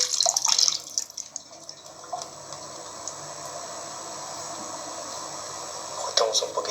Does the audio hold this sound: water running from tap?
yes